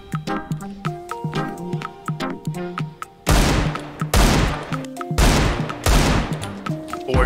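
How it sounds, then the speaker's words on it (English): Four loud, heavy Desert Eagle pistol shots in a shooter game, spaced about a second apart, each a sharp booming crack, following lighter clicking and gunfire in the background. "Four deagle shots, man."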